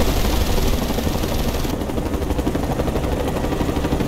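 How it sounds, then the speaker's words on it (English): A hostile helicopter in Mercenaries 2 drones on as a continuous, loud wash of rotor and engine noise with faint hints of gunfire, and no one speaks. "Get that helicopter!"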